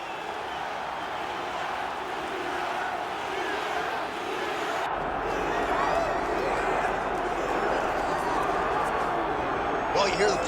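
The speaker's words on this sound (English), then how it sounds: "Well, you hear the pop from the crowd" A crowd roars in a UFC 5 video game arena as Nate Diaz makes his walk for a fight with Mike Tyson. The broad cheering noise swells midway and continues under a commentator's voice.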